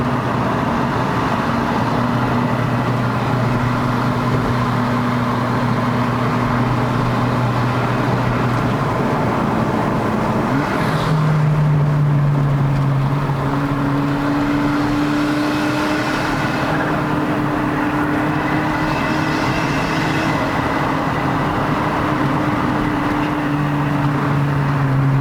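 A Perodua Bezza 1.3L fitted with a bolt-on turbo labours steadily uphill on a mountain road, giving a continuous droning engine hum with a gear change partway through, heard from inside the car without talk.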